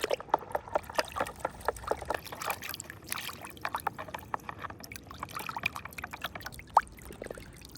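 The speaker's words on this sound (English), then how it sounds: "Whoa, such a dirty truck. Whoa, we need to wash it right now." A dirty toy truck is rinsed with water: a steady trickling and splashing runs throughout with small irregular drips and splatters, close and moderately quiet, and no talk is heard.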